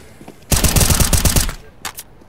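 Rapid burst of automatic gunfire in the tactical shooter CS:GO during a competitive match, loud and close for about a second, followed by a couple of brief sharp shots.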